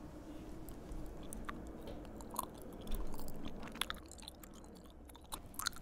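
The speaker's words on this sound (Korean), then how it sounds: "제가 이제 아메리카노를 먹어보겠습니다." Someone chews Americano-flavoured coffee jelly close to the microphone, soft wet squishing and gentle bites in an uneven rhythm, quiet and without talking.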